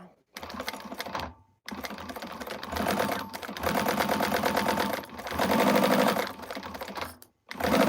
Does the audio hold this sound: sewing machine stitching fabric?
yes